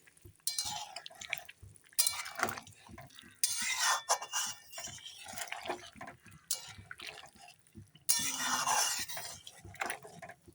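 Paneer curry with new-season potatoes and peas is stirred in a pot, wet squelching and clinking of a spoon against metal in uneven bursts, close and fairly quiet with pauses between strokes.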